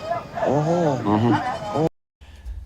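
Goat bleating at a livestock market in Nigeria, a wavering, pitched cry repeated in several close, loud bursts, followed by a brief silence and then low background market noise.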